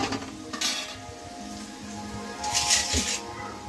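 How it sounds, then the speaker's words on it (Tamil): Mint and coriander go into golden fried onions in a pot for country chicken biryani, with metal utensil clinks and scraping against the pot and a light sizzle, close and moderately loud. "அடுத்து நம்ம புதினா கொத்தமல்லி போட்டுக்கலாம்."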